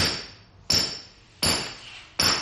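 Hammer blows seat the ring gear during a 5.13 re-gear of a Jeep JKU Rubicon axle, four sharp metallic strikes at even intervals of about 0.7 seconds, each ringing briefly and decaying, close and alone.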